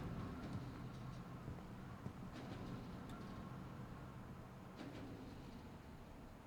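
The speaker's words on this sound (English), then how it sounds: "It sounds like flies and a train." An eerie ambient drone from the video game What Remains of Edith Finch, resembling a rumbling train mixed with buzzing flies: a dense, steady low roar that swells slightly in places, with faint higher crackles, and no voices.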